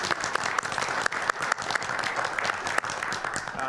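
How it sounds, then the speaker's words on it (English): Audience at a Georgetown law center patent conference breaks into sustained, steady applause, a dense wash of many hands clapping throughout with no talking. "I'd like a round of applause for Jay."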